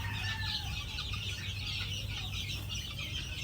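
A large brood of baby chicks peeping continuously in a high, dense chatter, steady and fairly faint, with a low hum underneath and no talking.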